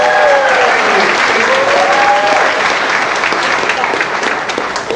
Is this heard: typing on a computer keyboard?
no